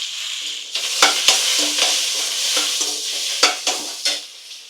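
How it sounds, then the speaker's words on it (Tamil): Fennel seeds, onion and curry leaves sautéing in a pan, with a bright continuous sizzle and several sharp scraping stirs of a spatula, close and loud, with no talk. "பெருஞ்சீரகம் கொஞ்சமாக, வெங்காயத்தை கூடவே அப்படியே கருவேப்பிலையும் போட்டு நல்லா வதக்கிக்கும்."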